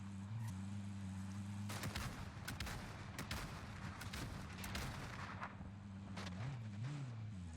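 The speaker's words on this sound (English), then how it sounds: "someone's shooting at him with a Rytec" Rytec rifle gunfire in Warzone rings out as repeated heavy booming shots over a steady vehicle-like engine drone, loud and dense with irregular spacing, no talk.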